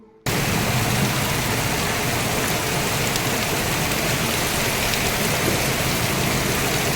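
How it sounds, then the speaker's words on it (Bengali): Heavy evening rain during a hailstorm, a dense, steady hiss of downpour on surfaces that starts abruptly and holds at full, even intensity throughout, with no voices. "বিকেল থেকে এখনও কিন্তু বৃষ্টির কিছুই পরিমাণ কমেনি"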